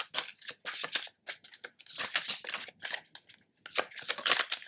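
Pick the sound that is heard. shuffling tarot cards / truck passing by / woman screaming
shuffling tarot cards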